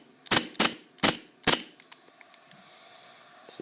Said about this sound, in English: Now what I'm going to do is hold down the lever so you can see the blowback action.